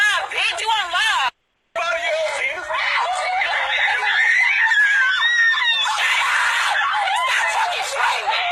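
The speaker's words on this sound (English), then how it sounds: "Stop fucking screaming." A person screams loudly and repeatedly in an angry confrontation streamed live, high shrill cries running nearly throughout with a brief gap, mixed with yelling and laughing voices close to the microphone.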